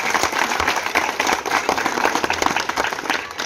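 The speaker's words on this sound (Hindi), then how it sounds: "एक बार जोरदार तालियां इसके लिए बजा दीजिए" Enthusiastic applause from a crowd at an Aam Aadmi Party women's wing gathering in Delhi, loud dense clapping sustained throughout, close and without speech over it.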